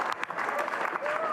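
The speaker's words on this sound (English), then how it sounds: "Applause from the team in the garage." A burst of applause from a racing team in the pit garage during 24-hour race qualifying at the Nürburgring, dense clapping up close with faint voices and a tone underneath.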